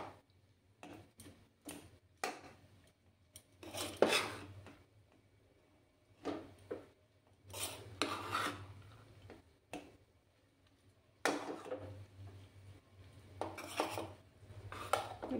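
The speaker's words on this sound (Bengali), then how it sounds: "এবার আমি সব রাইসগুলো দিয়ে দিচ্ছি।" A spatula stirs cooked rice in a frying pan over a lowered gas flame for Bengali-style fried rice, the rice boiled earlier with cinnamon, cardamom and bay leaf, giving close bursts of scraping and metallic clatter separated by quiet pauses.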